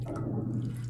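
Water trickles onto a wool-fat shaving soap brush, a brief close, steady splashing pour with no talking.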